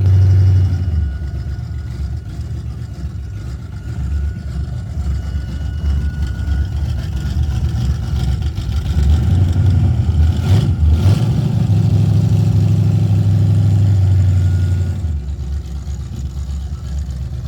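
A 1969 Chevrolet Camaro SS Coupe engine idles with a deep, loud burble. It is revved up into a heavier, sustained roar through the middle, then drops back toward idle, with no talk over it.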